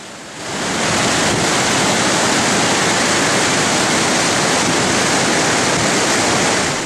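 Boiling river water rushing below a swaying suspension footbridge at Baños near a waterfall, a loud unbroken roar that swells in within the first half second and holds steady throughout.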